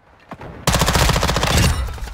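Sustained burst of SMG fire in a Call of Duty Search and Destroy match on a Disney-style Main Street map, a lone shot first, then a long rapid rattle of close, loud automatic shots.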